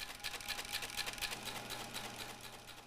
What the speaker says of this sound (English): When everything's set, the projector's turned on.